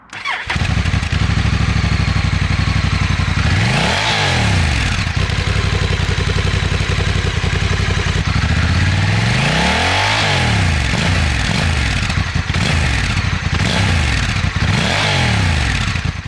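A 2022 Honda NT1100 motorcycle engine and exhaust while riding, loud and close throughout, with repeated rising-and-falling revs as the bike accelerates and shifts gears several times.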